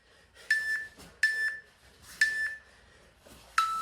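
Four short electronic workout interval timer beeps repeat at a steady interval, each a clear mid-pitched tone with a bright attack, sounding alone and fairly close.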